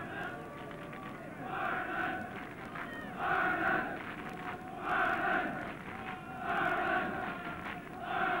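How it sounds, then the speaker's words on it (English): Fans in a football stadium at the Luxembourg v Ireland match chant in rhythmic, repeating swells roughly every second and a half, a distant mass of voices rising and falling in a steady pattern. "Judged by the crowd, you'd think it was an Irish home match."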